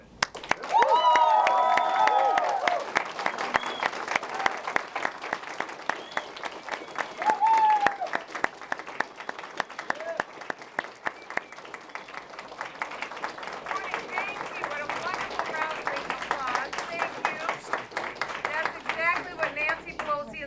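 A conference crowd applauds and cheers as Congresswoman Michele Bachmann is welcomed at a 2012 event. The clapping is loud and sustained, mixed with whoops and voices, and runs the full length of the clip.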